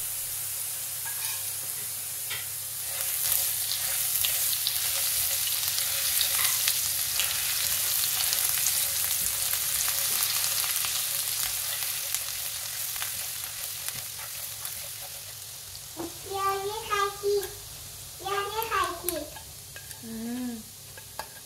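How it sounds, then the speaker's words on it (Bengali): Ginger and garlic frying in a pan, a steady sizzle with light stirring ticks, followed near the end by a few short tonal squeaks or whistles over the hiss. "এবার আমি আদা রসুন প্রথমে দিয়ে দিচ্ছি।"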